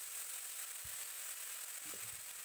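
Tomato paste fries in oil left over from frying fish, making a soft, continuous sizzle with a couple of low knocks from stirring, fairly quiet and with no voices.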